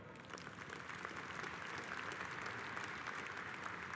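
A convention hall audience at a CWA union gathering applauds, a sustained dense wash of clapping from many hands, steady and fairly distant with no talk over it.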